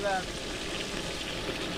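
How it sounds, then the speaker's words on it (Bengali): Fish frying in a pan, cooked outdoors on a boat in heavy monsoon rain, gives a short, soft, continuous sizzle heard at a moderate distance with no talk over it. "মাছ ভাজা ভাজা হয়েছে"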